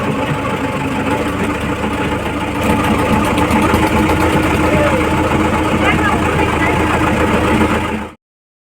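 A motor boat engine chugs steadily and loudly, a dense continuous throb carrying a rapid knocking rhythm, until it cuts off abruptly near the end; voices can be heard over it.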